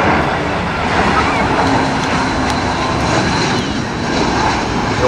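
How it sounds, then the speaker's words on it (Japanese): A four-engine double-deck Airbus A380-800 airliner on approach to Narita runway 16R roars loudly overhead near Sakura-no-Yama park, a sustained, broad jet rumble that stays strong throughout. "エンジン4発等2階建て世界最大の旅客機エアバス A380-800 タイバンコクから参ります。"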